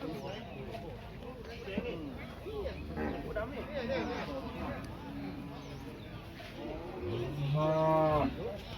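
Cattle mooing at a busy cow and buffalo market in Chiang Rai, with deep calls recurring through a background of murmuring crowd talk and one loud, drawn-out moo near the end.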